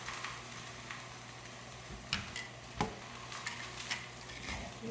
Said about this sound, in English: Making a lot of sizzle and a lot of noise over there.